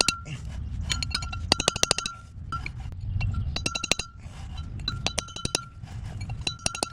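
Light metal taps on a ball joint during upper and lower ball joint replacement on an LS-swapped Chevy S10, a series of sharp, ringing clinks in quick bursts, close and fairly loud over a low workshop rumble.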